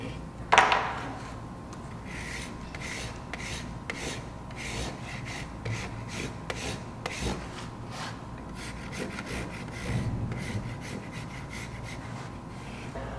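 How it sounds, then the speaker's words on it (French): A plaster mold is leveled with a knife or Surform rasp, giving quiet, repeated scraping strokes in an uneven rhythm, close and faint with a brief louder knock at the start. "Puis là, je vais venir égaliser. Moi, j'utilise un couteau ou un surforme."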